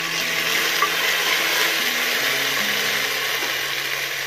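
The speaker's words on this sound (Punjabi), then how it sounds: "ਪਿਆਜ਼ ਫਰਾਈ ਹੋ ਚੁੱਕਿਆ, ਹੁਣ ਆਪਾਂ ਇਹਦੇ ਵਿੱਚ ਪਾਵਾਂਗੇ ਹਰੇ ਮਟਰ" Green peas tumble into fried onions in a pan, a steady broadband sizzle and stirring scrape running throughout, fairly close and alone with no voices.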